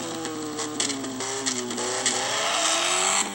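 Racing video game engine screaming at high RPM, repeatedly rising in pitch and dropping as it shifts gears, loud and close with no talking.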